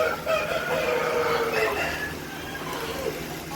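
Chickens on a poultry farm in Bankura, West Bengal, clucking and calling in a continuous chatter from many birds close by, with a rooster-like crow rising over the flock.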